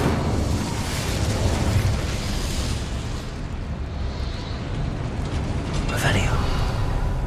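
Incendio fire spell in the Hogwarts Legacy video game, a continuous roaring, crackling burst of flame held for several seconds, ending with a sharp whooshing flare.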